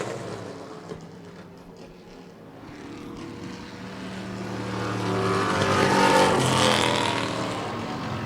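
Race cars in a Wicked Good Hobby Division race, including the number 420, roar around the track at a distance, with engine noise swelling as they draw closer and pass.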